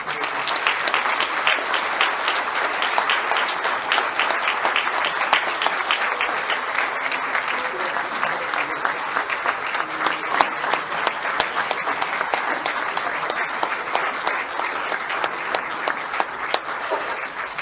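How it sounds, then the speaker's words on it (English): Sustained audience applause fills a wrestling hall of fame induction ceremony, steady and dense clapping from a large crowd throughout, with no talk over it. "the next round of applause should be for my wife"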